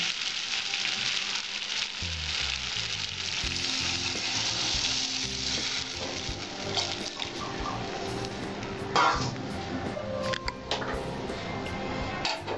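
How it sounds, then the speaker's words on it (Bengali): Water hits a pan of spiced potato masala frying in oil, bursting into a loud, continuous sizzle that bubbles and crackles steadily for a long stretch, close and without any voices. "আমার আলুটা মশলার মধ্যে কষানো হয়েছে, এবার আমি জল দেবো এর মধ্যে"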